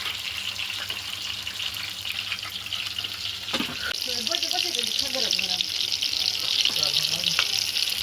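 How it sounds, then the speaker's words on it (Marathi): Kebab patties fry in a pan, a constant close sizzle with a sudden crackling burst partway through, while voices talk faintly in the background. "झाले आता फ्राय करतो"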